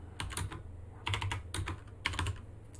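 Bursts of clicky keystrokes on a computer keyboard in a Linux command-line lecture setting, several quick clusters of taps spread across the moment with a low hum underneath and no talking.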